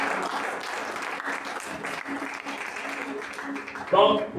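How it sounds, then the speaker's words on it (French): A church congregation at a night prayer vigil claps and applauds steadily, with a voice speaking over the clapping and a louder burst of cheering near the end. "acclame Jésus"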